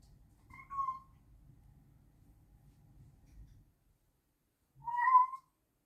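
A pet cat meows twice indoors, two short clear calls several seconds apart, with faint low rustling between them and quiet otherwise.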